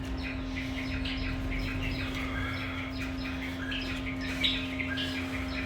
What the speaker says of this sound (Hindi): ये माशाल्लाह हमारा फिशर का ब्रीडर पेयर है जिसके ये चिक्स हैं।